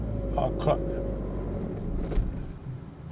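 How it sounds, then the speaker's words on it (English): A modern Ford car's engine rumbles low in fourth gear during a clutch test, then stalls with a brief thump near the end while a voice talks faintly in the background. "Alright, it's stalled, so clutch up slowly and it's stalled."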